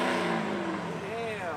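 A supercharged Audi R8 without a bumper revs hard, its engine note rising and falling in sweeping pitch over about a second and a half, loud and close, with people talking excitedly over it.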